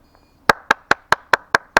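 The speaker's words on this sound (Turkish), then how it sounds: "Alkış yap." Hand claps outdoors during a robotics competition in nature at Kızılcahamam: eight sharp, evenly spaced claps in a steady rhythm, close and loud against near silence.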